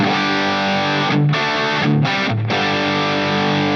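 Electric guitar through a Line 6 Helix overdrive snapshot on the Cali Texas channel, loud sustained chords ringing out with three brief chord changes, no talking.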